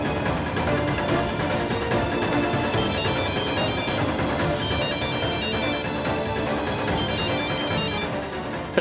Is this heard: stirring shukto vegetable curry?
no